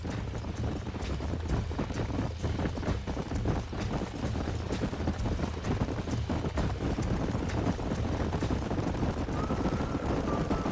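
Herd of horses galloping in the Red Dead Redemption video game, a dense, steady patter of hoofbeats thundering close and loud throughout with no talk.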